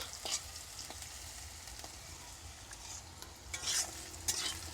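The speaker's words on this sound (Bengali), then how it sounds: "রসুন আর আলু শুকনো লঙ্কা ভাজা হয়ে গেছে" Garlic, potato and dried red chillies fry in oil with a soft, steady sizzle and occasional light stirring clicks, fairly quiet and close, with no voices.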